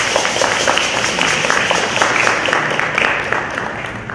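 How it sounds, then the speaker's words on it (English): An audience giving a round of applause at a Black History Month ceremony, dense steady clapping throughout that tapers slightly at the end. "So I'd like to give Baba Dokito EA and Baba Kenyatta a round of applause."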